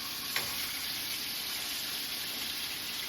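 A T-bone steak with onion and mushroom sizzles in butter and oil in a skillet, a dense, steady close hiss with one brief clink near the start.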